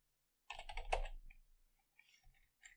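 A short burst of typing on a computer keyboard while entering CSS code, a cluster of quick close key clicks followed by a few sparser taps.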